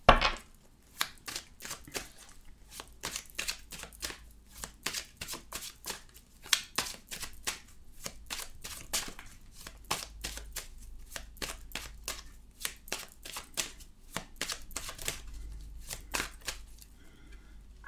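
Cards shuffled and drawn during a tarot-style reading: a long run of crisp, rapid riffling snaps and flicks close to the mic, pausing briefly and resuming in uneven bursts, with no voice.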